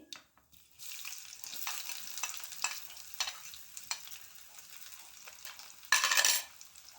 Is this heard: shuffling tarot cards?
no